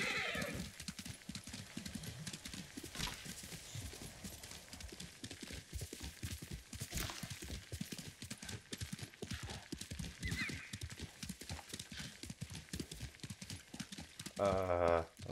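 Rhythmic clip-clop of hooves runs throughout alongside a horse's whinny, with game-like sound effects and some voices mixed in, from the video game Ghost of Tsushima.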